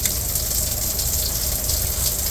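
Steady rushing spray of water from a cabin shower head aboard the Carnival Liberty cruise ship, a continuous close hiss filling the whole moment with no pauses.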